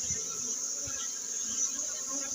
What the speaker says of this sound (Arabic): راه هنا النحل كتير ما شاء الله